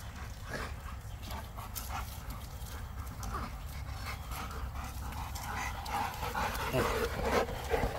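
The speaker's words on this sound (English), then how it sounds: "Listen to these dogs run back." Dogs pant heavily and scramble close by, a continuous rough breathing with scuffling movement and a faint voice in the background.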